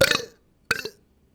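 Two separate burps from a person, the first longer and louder, the second shorter after a brief pause, both close and clear with no talking.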